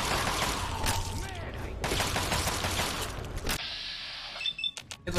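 Enemy ghoul firing in the Fallout 3 video game: a dense burst of gunfire-like crackling that fills the first few seconds, then sharp scattered shots near the end over quieter game ambience.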